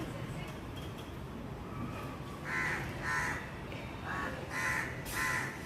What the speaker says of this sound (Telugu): ఇక్కడ దగ్గరలోనే ఇంకో కాకి కూడా ఉంది